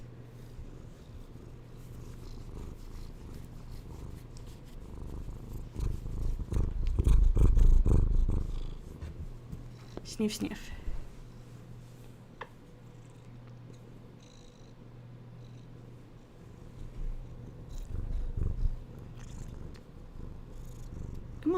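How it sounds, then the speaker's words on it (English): Close, low purring from a cat runs steadily throughout, swelling louder midway, with soft handling noises and a brief sniffing voice over it. "Oh, you can't hear cat purr."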